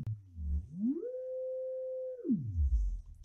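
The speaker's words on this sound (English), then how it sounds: "You can change the waveform from a square wave to a triangle wave to a sine wave" A smooth electronic synth tone from a Space Beam synthesizer glides up in pitch, holds steady as a pure sine-like note, then slides back down, with a rougher buzzy tone at either end as the waveform changes.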